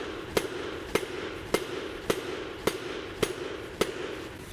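A wooden mallet pounds crushed coal dust into a small briquette mold, seven sharp, evenly spaced strikes about half a second apart, close and clear over a faint background hum.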